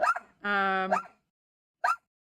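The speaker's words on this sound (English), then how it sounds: "Mommy hates it when you bark." A pet dog barks in a home during a live stream: a short yip, then a sustained whining bark, and one more brief bark after a pause, close and fairly loud.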